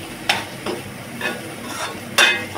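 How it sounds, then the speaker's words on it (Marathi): Cooked rice is mixed into mango masala in a pan, making a few distinct scraping stirs against a quiet, low sizzle. The sounds are close and moderately loud, with a sharper scrape at the end. "आता यात आपण टाकूया भात. आणि चांगलं मिक्स करून घेऊया."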